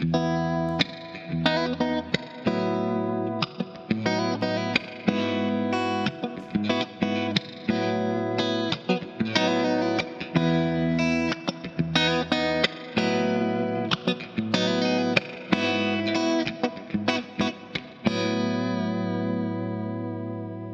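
Loud, sustained distorted electric guitar from a Fender Stratocaster playing chords and riffs with heavy sizzle and echoey effects, rhythmic stops and restarts, no voices.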